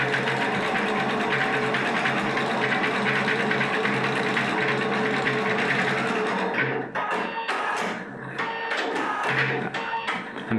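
A Husqvarna Topaz 25 embroidery machine stitching, its steady loud mechanical whir running continuously, then breaking into stuttering bursts and brief pauses toward the end, heard up close with no talking.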